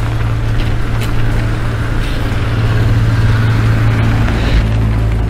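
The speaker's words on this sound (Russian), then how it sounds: "машина просто орёт" A car engine roars steadily and loudly up close, a dense low rumble that holds without a break from start to finish.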